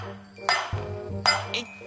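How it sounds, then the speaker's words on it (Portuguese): A solid iron hammer clinks against metal beside a locked armored safe, giving a few sharp ringing strikes with short metallic decays, close and fairly loud, with some low background rumble. "É um martelo todo de ferro."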